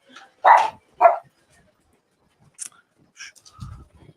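Two loud dog barks close by, then quieter, distant barks and yips follow after a pause.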